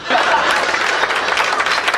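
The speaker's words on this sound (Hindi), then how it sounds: "ये ताली बजा रहे हैं" Audience applause at a comedy show, dense steady clapping from a large crowd with a few chuckles mixed in, loud and close for about two seconds.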